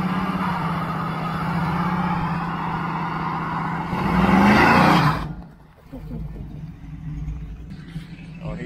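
A big black truck's engine rumbles close by, then surges in a loud rev as the pedal is pressed before dropping away, with people talking over it.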